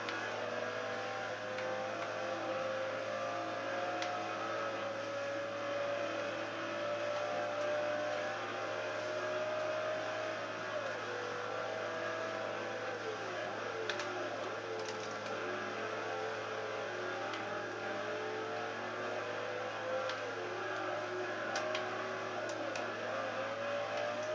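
Racing car engine in the video game Forza Horizon 4, a steady droning hum with faint shifting whine tones as the car nears the finish line, held evenly throughout without speech.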